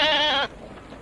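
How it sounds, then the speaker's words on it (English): Goats at a petting zoo bleat in a loud, wavering call lasting about half a second, then cut off to quiet background noise. "Goats. Look, they're dancing."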